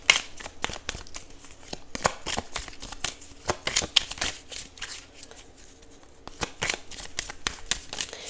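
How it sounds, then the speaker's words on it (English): Tarot cards being shuffled by hand in a steady run of riffling, flicking bursts, close and fairly quiet, with no talking over them. "let's go ahead and pull your final card."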